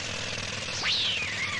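A jackhammer pounds away at construction work in an animated scene, a loud, steady rattling din that runs the whole moment, with a whistling cartoon effect sweeping across it near the end.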